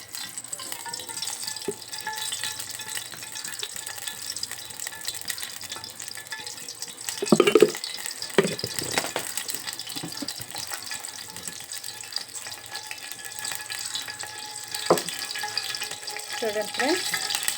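Two spoons of oil fry in a pan for gongura pachadi, a steady close hiss running throughout, with a few louder clinks and stirring knocks partway through.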